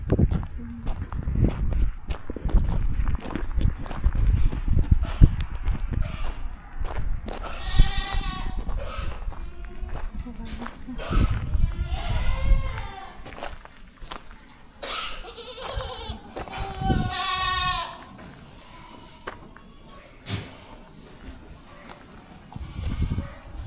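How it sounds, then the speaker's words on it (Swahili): Goats on a large farm bleat several times in short, nasal bursts from close by, with footsteps and other livestock shuffling around and people talking in between. "Na ndio mbuzi."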